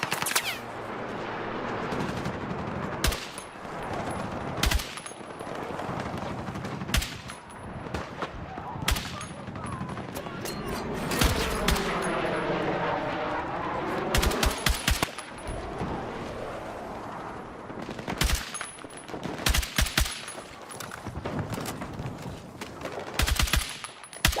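Sharp bursts of gunfire, both single shots and rapid automatic volleys, crack out again and again at close range, with faint talk in between.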